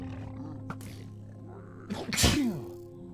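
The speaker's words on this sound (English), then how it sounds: "Had to sneeze there for a second." A single loud, close sneeze bursts out after a quiet stretch with faint background tones, during a Sunday game stream.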